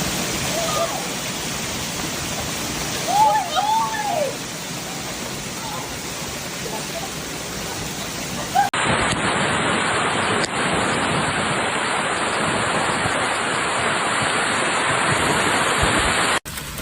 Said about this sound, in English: The city and the desert surrounding it got hit by a vicious hailstorm.